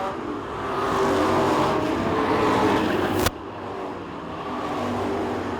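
Street stock race cars roar together down the backstretch at Cochran Motor Speedway during a heat race, a loud continuous engine drone that dips sharply midway then swells again, with an announcer's voice faintly under it.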